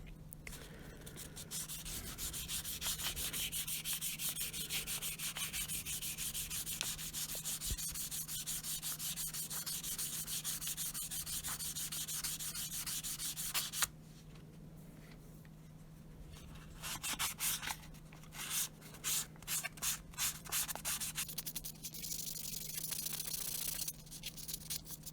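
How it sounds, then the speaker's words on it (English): A restored Punch Lok P Chicago hammer is sanded and filed: a long, continuous abrasive rubbing, followed by a pause, then a run of rhythmic back-and-forth strokes, all close and fairly quiet. "There's a lot of sanding."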